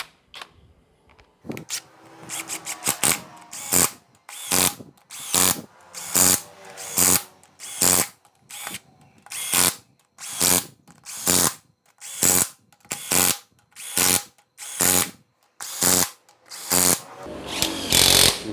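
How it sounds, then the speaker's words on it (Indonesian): An impact wrench tightens bolts during assembly of a Kijang 2L diesel engine, firing a rapid run of sharp, rattling hammering bursts separated by brief pauses, loud and close, with no talking. "Kita akan percepat dulu dari perapatan baut menggunakan impact."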